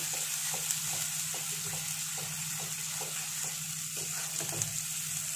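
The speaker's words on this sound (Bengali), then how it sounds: "ভালো করে মশলাটা মিশিয়ে নেব।" Masala for prawn malai curry stirred and fried in a pan over medium heat, with a loud, continuous sizzle and a regular rhythm of scraping spatula strokes close by.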